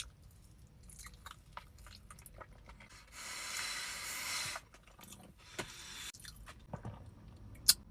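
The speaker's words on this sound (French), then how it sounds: "On va se prendre un petit croc." Bites and chewing on a crunchy hazelnut flan, soft crunches and mouth noises close up, with a denser crackling burst midway and a sharp crisp snap near the end.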